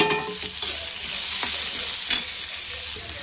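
Onion, dried and green chillies and urad dal fry in a pan for coriander-mint chutney, a steady close sizzle with occasional scraping stirs and no voices.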